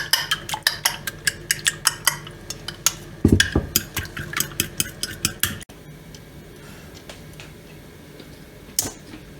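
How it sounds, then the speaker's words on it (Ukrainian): Quick, rhythmic clinking of a fork whisking eggs in a bowl, steady tapping that continues for several seconds before fading into softer background noise. "Зараз яйця збиваю вилочкою."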